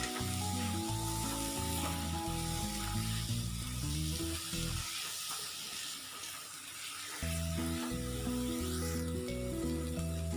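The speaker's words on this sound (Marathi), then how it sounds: "आता आपण याच्यामध्ये ही मेथीची परतून घेतली होती ती घालूया आणि व्यवस्थित मिक्स करून घेऊया" Sautéed fenugreek leaves are stirred into garlic methi in a hot pan, giving a steady sizzle with scraping stir strokes, heard faintly under soft background music.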